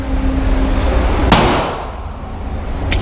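A single sharp Canik MC9 Prime pistol shot firing Blazer Brass ammunition rings out loud and close, followed by a decaying echo and another faint transient near the end.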